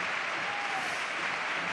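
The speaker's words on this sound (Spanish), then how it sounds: "Vaya ovación a Rubén, sí." Crowd at a football match applauding a player as an ovation, dense steady clapping from many hands, loud and continuous throughout.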